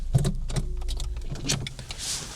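A window being wound open on a 30-year-old Nissan Micra with just 12,500 miles, parked in a lay-by, a short mechanical whir with a few soft clunks close by inside the car.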